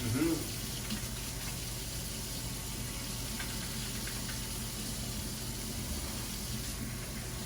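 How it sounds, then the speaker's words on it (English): Tap water runs steadily into a sink as a cutting board is rinsed in a kitchen, a constant, fairly quiet splashing hiss that continues throughout. "Okay, I'm going to wash off my cutting board."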